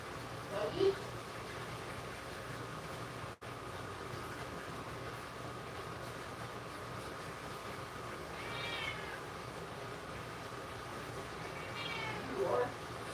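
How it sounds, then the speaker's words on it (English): A cat meows a few times, faint and drawn out, against a constant hum of background noise, while a person talks to it between the calls. "Yeah, you go meow a lot. You are a big meower"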